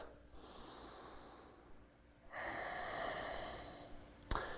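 Deep breathing during a yoga core balance exercise: a slow soft inhale followed by a louder, longer exhale, close and quiet, ending with a brief sharp click.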